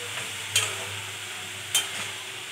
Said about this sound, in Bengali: এবার এটাকে ভালো করে নাড়াচাড়া করে অন্য ইনগ্রিডিয়েন্টসগুলো দিতে হবে।